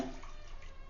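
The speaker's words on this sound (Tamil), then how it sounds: "தண்ணி ஊற்றுறேன் நான்." Steady rushing of water pouring into a pot, a continuous splashing wash with no pauses, fairly quiet and close.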